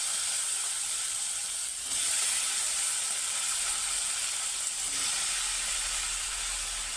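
Salted, cut eggplant pieces hiss and sizzle steadily in a hot pan of oil while frying, a continuous bright frying noise that holds nearly constant from start to finish with no voices.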